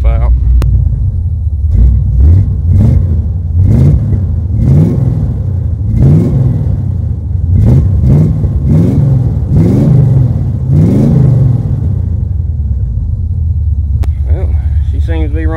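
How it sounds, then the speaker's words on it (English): A 1986 Chevrolet Suburban dually truck engine idles loud and close, a steady low rumble with rhythmic surging pulses, heard alone without talk. "I'm gonna let it sit here and idle for a minute."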